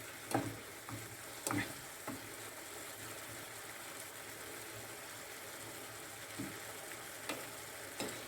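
Fish sizzles steadily in a frying pan after being turned, for a Provençal-style fish dish, with a few soft knocks and clinks of a utensil over the constant crackle.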